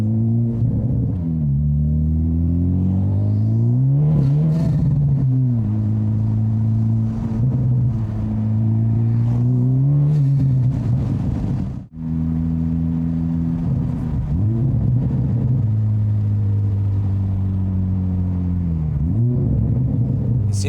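A 600-horsepower Honda Civic Type R engine accelerates in long sweeping pulls, a deep droning rumble rising and falling in pitch, loud and close from the cabin, with a short break midway between runs.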